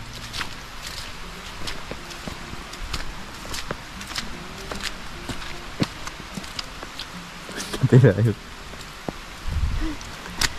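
Rain falls outdoors as a steady, soft patter with scattered sharper drips and taps, while people talk faintly and a couple of louder bursts of voices or movement come near the end.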